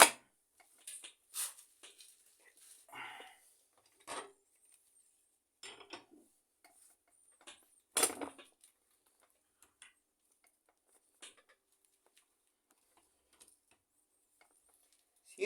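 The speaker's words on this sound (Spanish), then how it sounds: "Vamos a apretar nuevamente por si hay algún desconfiado." Pipe wrench tightening a bolt again on a bench, in a close-up comparison of 1 1/2-inch pipe wrenches: scattered metallic clicks, taps and clanks, with a sharper clank near the middle, separated by quiet gaps.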